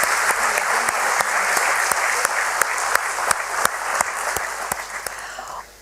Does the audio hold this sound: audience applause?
yes